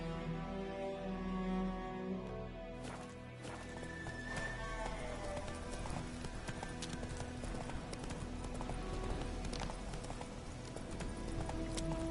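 Horse hooves galloping in The Witcher 3, a quick, steady clip-clop rhythm running throughout at moderate volume, with an occasional whinny and ambient game sound.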